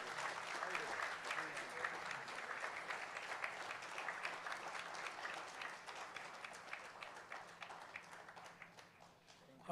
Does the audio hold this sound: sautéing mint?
no